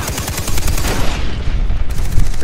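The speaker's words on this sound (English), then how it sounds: "What, someone's shooting me." Loud, close automatic gunfire in Far Cry 3 co-op play, with rapid overlapping bursts of shots rattling steadily for a couple of seconds without talk.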